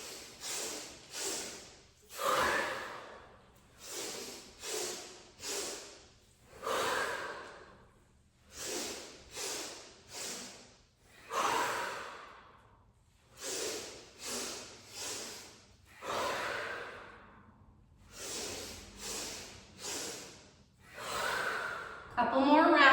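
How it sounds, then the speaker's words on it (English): Close, audible yoga breathing built from three-part inhales, with a dozen or so rhythmic breaths that swell and fade in a steady cycle and short pauses between them. "Breathe with it. 3-part inhale."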